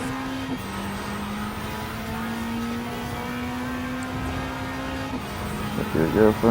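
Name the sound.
Lancia Delta HF Integrale Evoluzione inline-4 engine in a racing video game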